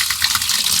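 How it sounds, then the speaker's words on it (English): Clean rainwater gushes from the spout of an off-grid rainwater tank, a short, loud, steady rush of pouring water. "the water that comes out of it's nice clean"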